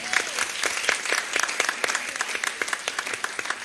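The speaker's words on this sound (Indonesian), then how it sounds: "Aplaus buat beliau." An audience breaks into applause for a guest speaker at a cultural talk, many hands clapping in a dense, lively patter that holds steady throughout.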